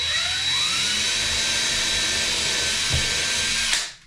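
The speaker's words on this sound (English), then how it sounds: "I'm just going to pre-drill this hole." A cordless power drill whines steadily while pre-drilling a screw hole for a toilet paper holder in a cabinet, running loud and close for nearly four seconds before stopping abruptly.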